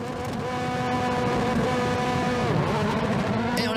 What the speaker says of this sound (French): il accélère, il serre le frein à main.